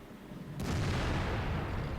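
A tank cannon fires in the World of Tanks video game, a single sudden boom that opens into a long rumbling roar and holds steady to the end.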